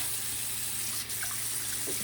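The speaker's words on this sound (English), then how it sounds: "I'm going to fill this sink with cold water" Cold water runs from a tap into a sink as it fills, a steady close rushing splash that holds constant throughout with a faint clink near the end and no talking.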